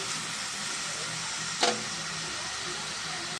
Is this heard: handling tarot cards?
no